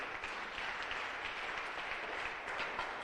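A church congregation applauding, steady dense clapping from many hands at moderate distance, with no break over a few seconds.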